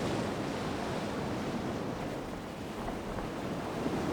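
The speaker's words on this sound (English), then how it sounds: "That's one big waterfall." A big waterfall in the Grandia II video game roars as a steady, broad wash of rushing water noise, continuous and fairly loud with no voices.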